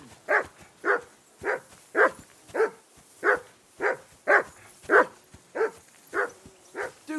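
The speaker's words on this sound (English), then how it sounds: "Do something with that mutt, Henry." A dog in a medieval role-playing game gives a steady series of about a dozen evenly spaced barks and yips with a whining edge, close and clear, with no talk over them.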